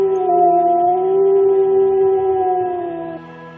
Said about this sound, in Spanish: Un aullido.